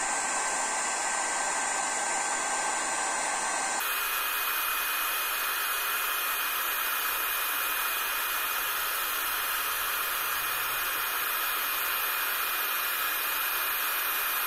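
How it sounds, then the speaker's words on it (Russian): A construction heat gun blows steadily on oiled wood for the whole stretch, a loud continuous airy roar that shifts slightly in tone partway through. "И теперь при помощи строительного фена нагреваю."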